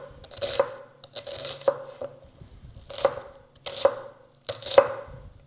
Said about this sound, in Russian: Чем мельче нарезаем, тем сочнее будет наша начинка.